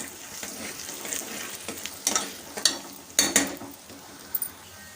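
Asafoetida, a broken dried red chilli and curry leaves fry in oil in a pan for a South Indian tiffin, with crackling sizzle bursts and stirring scrapes over a soft background hiss, close and moderately loud.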